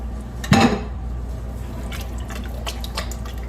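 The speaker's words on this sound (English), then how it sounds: "So I'm just going to stir all this together." Chicken tortilla soup stirred in a pot, opening with a sharp metal clank of the spoon followed by soft liquid sloshing and light scraping taps.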